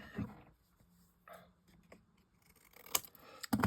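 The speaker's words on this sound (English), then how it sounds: "And cut off the excess." Scissors snip off excess paper while making a card from old papers, a few brief crisp cuts near and fairly quiet, with small handling rustles between them.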